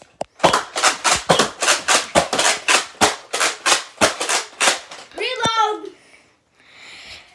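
A Nerf Fortnite SCAR pump-action blaster snaps and clacks in a fast, even series of close plastic clicks, like a pump shotgun being cycled and fired. A short spoken remark follows, then a pause.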